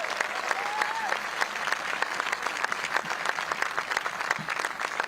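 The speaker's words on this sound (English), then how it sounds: "Let's give them a big round of applause." Steady, sustained applause from an audience at a news conference introducing the owners of Portland's new WNBA team, dense clapping throughout with a faint whistle near the start.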